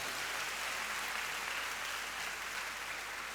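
An audience at a religious celebration in Nandre, Maharashtra, applauds loudly, a dense continuous wash of clapping that stays even and sustained throughout, with no voices over it.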